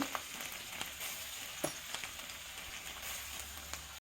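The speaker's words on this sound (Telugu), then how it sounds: "దీంట్లోకి ఉల్లిపాయ వేసుకోండి బాగా బ్రౌన్ కలర్లో వేగేటట్టు చేయాలి" Onions frying in oil in a kadai while a paneer curry gravy gets started, a soft steady sizzle with faint crackles and a few brief clinks near the middle.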